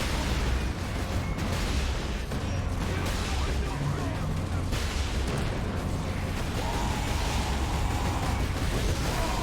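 Rocket explosions and combat noise in Warhammer 40k: Space Marine, a loud, continuous barrage of booming blasts and crackling bursts with no pauses throughout.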